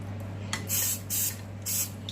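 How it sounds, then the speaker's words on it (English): Three short hissing bursts of cooking spray, evenly spaced, over a steady low electrical hum. "after so many, I just spray it again"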